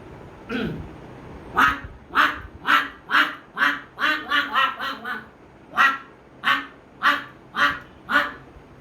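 A person imitates a duck, giving a long series of loud, evenly spaced nasal quacks, some in quick bursts, with no other talking.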